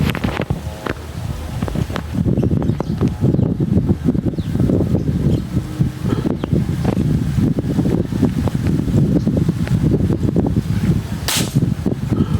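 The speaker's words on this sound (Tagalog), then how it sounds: "Lakas ng hangin eh." Strong wind buffets the microphone in a steady, rumbling roar, with low gusty noise continuing throughout and no voices.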